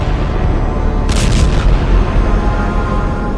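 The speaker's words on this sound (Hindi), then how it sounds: "लेबनान के ये धमाके" A loud, heavy rumble of explosive booms from strikes in Lebanon rolls continuously, with a sharper crackling burst in the middle, dense and close.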